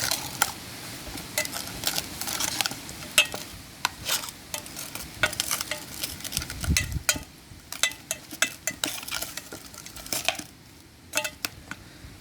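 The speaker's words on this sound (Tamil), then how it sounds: "மிளகாய் போட்டதை கலக்கலாம்." Chillies being stirred into mango sambal with a spoon in a pan: repeated clinks and scrapes over a soft sizzle, close and uneven, with no speech.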